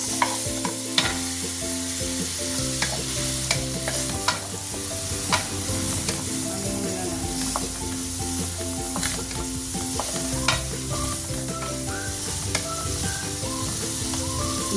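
Garlic, onions and tomatoes sautéing in a pan for beef caldereta, with a steady loud sizzle, frequent spoon scrapes and stirring clatter throughout, and background music playing alongside.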